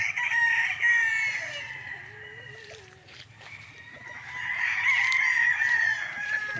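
A brightly colored rooster on a fenced Laguna farm lot crows, a long call at the start and another swelling near the end, with other fowl crowing faintly in the background.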